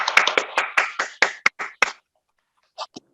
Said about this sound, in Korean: 자, 우리 한수원 인재개발원에 큰 박수 부탁드립니다.